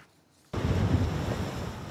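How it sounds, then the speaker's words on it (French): Powerful storm waves crash onto a jetty at Étretat, a sudden loud surge of roaring surf and wind noise that bursts in after a brief quiet moment and keeps rumbling. "De puissantes vagues s'écrasent sur la jetée."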